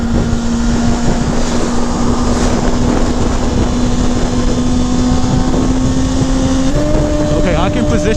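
A 2019 Kawasaki Ninja ZX-6R rides along, its engine holding a steady loud drone under heavy wind rush, then stepping up in pitch through quick-shifted gear changes near the end.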